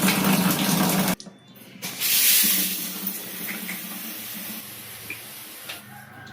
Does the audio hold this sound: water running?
yes